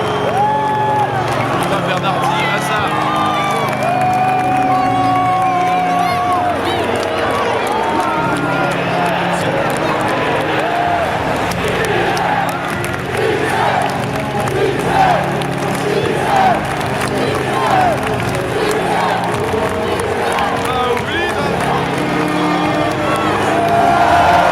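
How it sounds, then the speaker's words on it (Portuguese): Large football stadium crowd roaring and applauding as Djibril Cissé comes on as a substitute, a dense, sustained wall of cheering and clapping that swells and stays loud throughout. "O estádio explodiu em aplausos."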